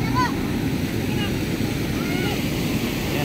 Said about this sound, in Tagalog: Malakas yung agos. Maingay yung agos ng tubig.